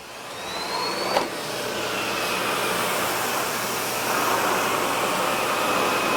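A SEBO Airbelt E2 Turbo vacuum cleaner sucks a pile of sand off a bare floor with a loud, steady, close-up roaring drone. One brief click stands out early on, and there is no speech.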